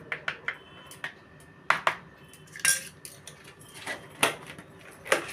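A spoon clinks and scrapes against a pot or bowl as turmeric is stirred into a cooking mixture for a curd, pointed gourd and prawn dish, giving a series of sharp, irregular metallic taps close by with no talk.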